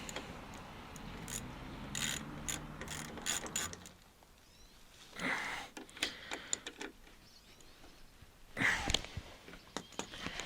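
Ratchet clicks tightening an ignition coil terminal on a Honda Big Red ATC 200E three-wheeler, heard as several short bursts of rapid ratcheting with quiet gaps between, close by and fairly soft.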